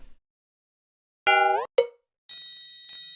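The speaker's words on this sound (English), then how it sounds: "I'm also hearing like some kind of bell in the background." Bright, ringing bell-like tones in a lofi hip hop track sound in short bursts, a few clear chimes separated by brief silences, standing out over a quiet background.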